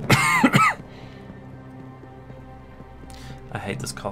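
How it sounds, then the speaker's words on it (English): A person coughs sharply twice at the start while playing Destiny 2. A quiet stretch follows, then more throaty coughing sounds break out near the end. "I hate this cough so much."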